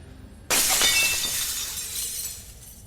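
A voice imitates glass shattering during a Dungeons & Dragons 5e tabletop role-play session, a sudden loud crash followed by a bright, ringing decay that fades over about two seconds.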